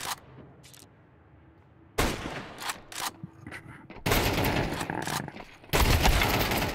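Gunfire in a shooting video game: bursts of rapid shots come in loud, dense clusters after a quiet opening, growing heavier toward the end with continuous automatic fire.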